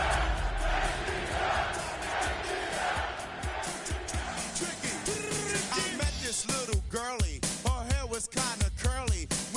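A stadium crowd roars in the Madden 26 football video game, a dense wash of cheering that gives way to rising whoops and shouts pulsing over the noise.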